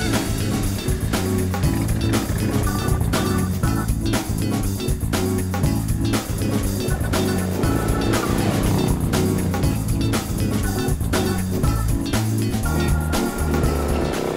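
A Morgan three-wheeler being driven, its engine note and road roar steady and loud throughout, with continuous mechanical rumble and occasional shifts in pitch as it moves along.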